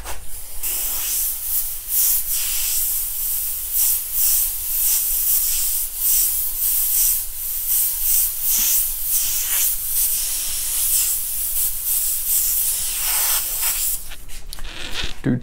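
An airbrush sprays fluorescent glow-in-the-dark paint onto a t-shirt in close, loud hissing bursts that pulse in quick repeated strokes for the whole stretch, stopping just at the end.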